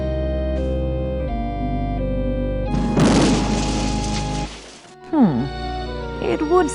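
In the King's Quest 7 video game, a lit firecracker explodes in a character's pocket: a burst of crackling blast noise lasts over a second amid game music and tones, followed by a quieter stretch and then speech.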